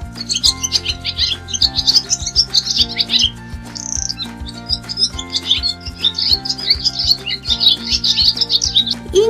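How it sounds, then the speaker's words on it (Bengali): A dove calls from a tree, its chirping and tweeting song repeating steadily over a low, rhythmic musical backing throughout, with no talking. "ঘয়ে ঘুঘু পাখি ডাকছে গাছে।"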